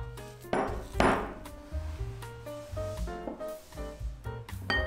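Softened butter and white sugar are worked together in a bowl for a pineapple bun topping, with repeated ringing clinks and knocks of the utensil against the bowl in an uneven rhythm.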